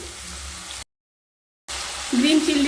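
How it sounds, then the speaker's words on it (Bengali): Soy sauce sizzling on half-fried vegetables for Hakka noodles: a hissing, watery sizzle that cuts out briefly and returns louder, with someone talking over it. "সবজিগুলোকে ফিফটি পার্সেন্ট ভেজে নেওয়ার পরে দিয়ে দেব সয়া সস প্রায় এক টেবিল চামচ সয়া সস দিয়ে দিলাম"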